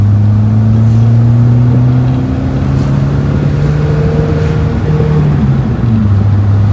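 A 1973 Citroën DS 23 Pallas engine accelerates from inside the car, a loud, steady low drone with the engine note climbing gradually and then dropping back near the end.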